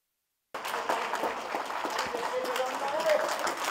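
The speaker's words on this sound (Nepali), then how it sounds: "ताली" A crowd applauds at a Nepali Congress political speech in Nepal, the clapping starting suddenly after a short silence and holding as a dense, fairly distant patter.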